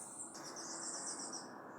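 Small bananaquits call in a garden with a pomegranate tree, a steady faint high chirping and buzzing chatter that runs continuously and quietly throughout.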